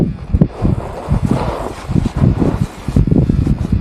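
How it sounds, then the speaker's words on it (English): Strong gusting wind at a volcano summit in Nicaragua, buffeting the microphone in uneven rumbling bursts with a rustling, whooshing texture. "very windy up at the top"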